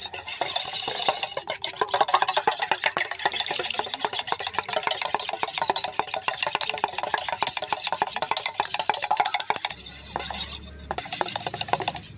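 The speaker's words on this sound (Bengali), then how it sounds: "ডিমটাকে আমি ভালো করে ফেটিয়ে নিচ্ছি।" Two eggs are whisked briskly in a bowl for a chocolate cake batter, with a fast, steady scraping rhythm of utensil against the bowl that pauses briefly near the end.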